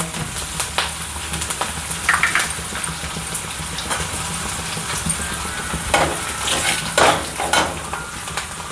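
Asafoetida and curry leaves sizzle in hot oil in a traditional kitchen, a steady close frying hiss with scattered crackling bursts and occasional light clinks of a utensil against the pan.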